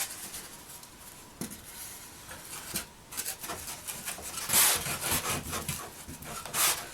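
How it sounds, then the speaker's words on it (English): Hand tools cutting, rasping and sanding a foam board scenery foundation on a model railway module, heard as continuous scraping and rubbing strokes with irregular rhythm, close and moderately loud. "then I'll start cutting, rasping, sanding to get back to clearances I need from the track"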